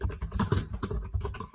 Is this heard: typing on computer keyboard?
yes